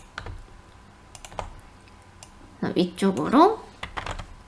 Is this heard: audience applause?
no